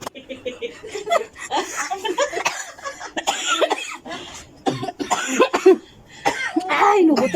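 Friends teasing one another indoors cough repeatedly, several sharp coughs scattered among chuckles, laughter and overlapping chatter, close and fairly loud throughout.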